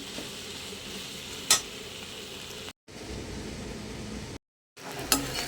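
Onions sauté in a hot pan for a vendakkai (okra) pachadi with a steady sizzling hiss, interrupted by a couple of brief silent gaps and occasional spoon scrapes.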